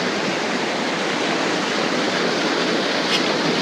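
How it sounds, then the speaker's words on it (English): Steady rush of water from a toilet flush valve in a flushing system, a dense continuous hiss with no pauses, fairly close and uniform throughout. "just simply by releasing the air, the valve will pop up and the flushing occurs at that point"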